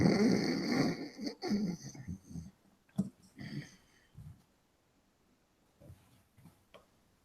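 A voice imitates the soft snoring of a sleeping man: a few breathy, rasping snore bursts close up at first, then fading into quieter, sparser snuffles.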